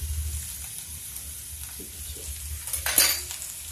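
Chopped garlic, green chilli and ginger go into hot oil in a home kitchen and sizzle faintly, with a brief louder crackle and a light clink of a utensil near the end.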